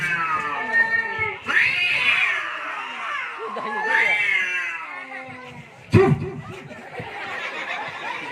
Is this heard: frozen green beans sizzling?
no